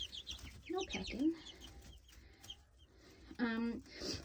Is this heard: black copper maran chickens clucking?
yes